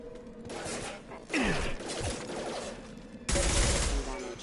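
Defender stacks fire in the Mass Effect video game, with bursts of rapid gunfire and mechanical clatter from a colony security system, loud and close, under a voice speaking.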